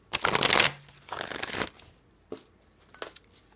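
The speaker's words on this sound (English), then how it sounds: "The cards I'm using today are Oceanic Tarot cards by Jane Wallace" Oceanic Tarot cards by Jane Wallace being shuffled by hand, two longer riffling bursts followed by a few shorter flicks, close and fairly quiet with no talking.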